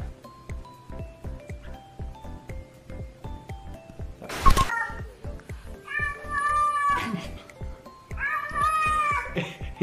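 A house cat meows loudly in two drawn-out calls over a steady rhythmic backdrop of music-like beats, with a brief rustling burst just before the first meow.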